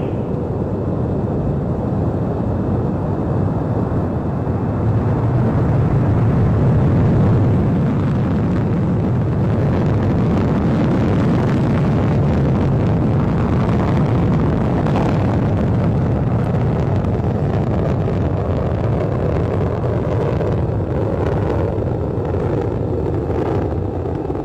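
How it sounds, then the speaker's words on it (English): Soyuz MS-9 rocket engines roaring at liftoff, a loud, continuous broadband rumble that holds steady for about twenty-five seconds with no voices. "Spectacular, the launch of Soyuz MS-9"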